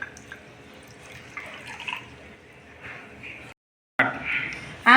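Water pours onto soaking chana dal in a bowl, a soft close splashing and trickling that rises in short bursts, breaks off briefly into silence, then returns louder.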